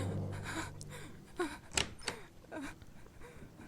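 A locked door in the horror video game Remothered: Tormented Fathers being unlocked and opened, with soft mechanical clicks and a sharp thunk, followed by quieter creaking movement, close and alone.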